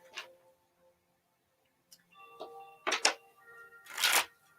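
A deck of cards is shuffled in a quiet room during a tarot reading, with short crisp riffling bursts and light ticks separated by pauses.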